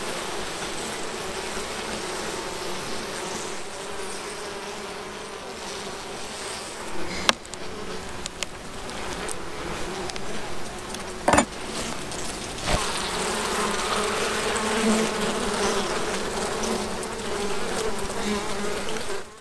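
Honeybees buzz steadily around an opened hive during a frame inspection, a continuous close drone with a few brief knocks and clicks of hive equipment partway through.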